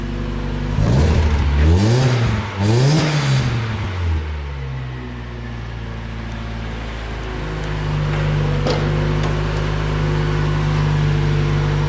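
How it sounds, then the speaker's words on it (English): A Mazda Miata's engine revs twice in quick rising-and-falling sweeps, close and loud, then drops back to a steady idle hum that carries on alone. "I've heard a lot noisier Miata motors than this thing."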